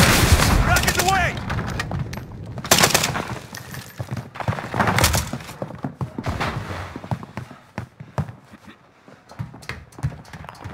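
Rockets and gunfire erupt in Call of Duty Warzone, a dense, irregular barrage of sharp bursts and booms with shouted in-game voice callouts mixed in throughout.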